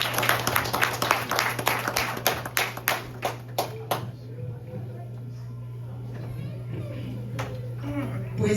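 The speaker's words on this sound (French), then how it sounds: "On applaudit Sœur Merlande Melidor." A church congregation claps together in a quick, regular rhythm of distinct claps for several seconds, then falls quiet, leaving a steady low electrical hum.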